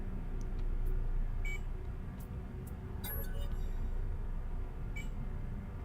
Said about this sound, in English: There's a weird beeping noise in this space station.